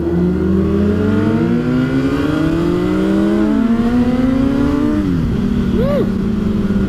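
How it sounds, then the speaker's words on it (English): A loud engine revs and climbs through gears, its pitch rising steadily then dropping and rising again, close and continuous. "I could hear your engine revving in my helmet."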